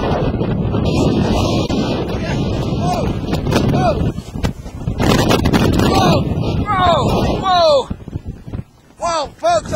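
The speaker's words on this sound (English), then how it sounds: "This wind up here is unbelievable." Strong wind gusts roar across an open, icy road during a wildfire, battering the microphone in loud, rumbling waves that drop out briefly, with someone talking over the blasts.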